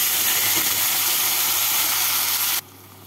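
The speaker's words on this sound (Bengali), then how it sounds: "ফোড়নটা হয়ে গেছে, এবার এর মধ্যে আমি দিয়ে দেব পেঁয়াজ, আদা আর কাঁচা লঙ্কা বাটা।" Onion, ginger and green chili paste sizzling in hot oil in a pan, a loud steady hiss that cuts off sharply near the end, with no talking.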